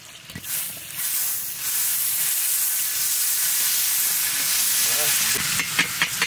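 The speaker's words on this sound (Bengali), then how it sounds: "দুলাল আর আমি কড়াই চাপাই দিছি, এখন দেখতে থাকেন আমরা কিভাবে রান্না করি। সবার প্রথমে দিয়ে দেবো আমরা বাটার" Butter sizzles steadily in a karahi, a continuous bright hiss and crackle close by that fills the whole stretch, with a few brief clatters near the end and no talking.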